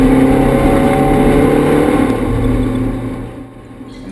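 Race cars on a formation lap at a Bulawayo circuit, including a turbocharged Golf, roar loudly and steadily nearby, the engine drone fading slightly toward the end.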